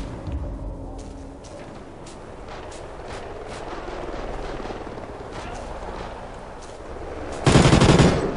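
Rapid machine gun bursts in the video game Call of Duty Ghosts, loud and continuous across the clip with a heavier blast near the end, no talking.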